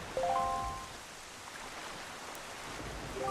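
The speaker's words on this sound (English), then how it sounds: "this place suffers under dark clouds and rain" Steady rain falls over a cursed island in Zelda Wind Waker, a soft continuous wash of drops with no talk, even in level across the short stretch.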